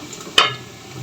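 Washed rice tipped into a pan of fried onions and green chillies for homemade chicken biryani gives one sharp clattering sizzle, then a low fading hiss as it settles.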